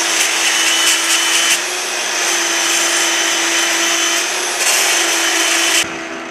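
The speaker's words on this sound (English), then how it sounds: "the first stage of the polish, which is taking out the weld and give a radiused edge" A belt linisher grinds a weld off a Moto Guzzi California III motorcycle part, giving a loud, steady abrasive whine and hiss throughout, with brief surges in pressure as the metal is worked and a sudden drop near the end.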